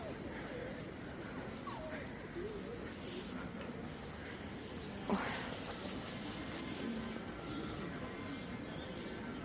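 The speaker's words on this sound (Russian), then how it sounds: "Собачки скулят." Small dogs whimper and yip faintly outdoors near old cathedral ruins in York, with thin, brief cries under steady background noise and nearby talk.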